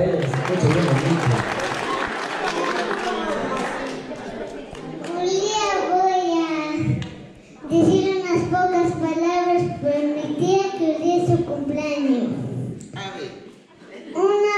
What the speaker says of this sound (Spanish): Fuerte el aplauso para ella, que se escuche bien el dicho.